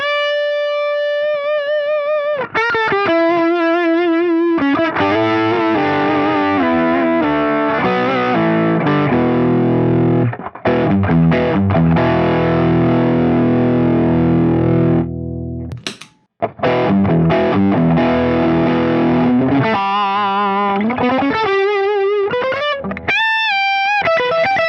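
Electric guitar played through a Zendrive overdrive model on an Axe FX 3, loud and continuous with sustained distorted chords, sliding runs and a brief gap near the middle before playing resumes.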